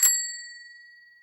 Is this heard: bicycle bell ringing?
yes